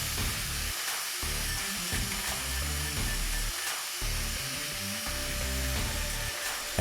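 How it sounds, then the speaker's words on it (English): An angle grinder works rust off the body of a Mazda Miata, a loud continuous high-pitched whine with gritty, rasping texture that wavers slightly as pressure shifts. "So, angle grinder time."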